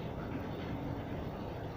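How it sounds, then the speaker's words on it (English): A passing train fills the space with a steady, dense rumble and rushing noise, loud and unbroken, masking any quieter surroundings. "the noise of that train"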